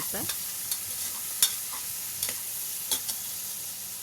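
Onions sautéing in a pan with a steady broadband sizzle, punctuated by several sharp scraping stirs of a spoon against the pan spaced irregularly across a few seconds, close and moderately loud, no voices.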